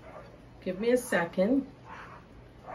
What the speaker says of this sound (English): If you hear my dogs are there, the kids in my neighborhood love to tease them.